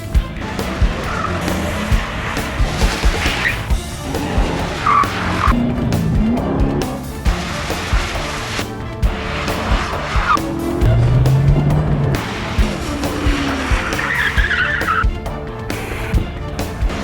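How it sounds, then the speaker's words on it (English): Corvette ZR1 driven on a wet skid pad during braking and accident-avoidance training: loud, sustained tire squeal and skidding over engine roar, with repeated rising and falling waves as the car slides and recovers. "hands-on training in braking and accident avoidance in the wet skid pad exercises"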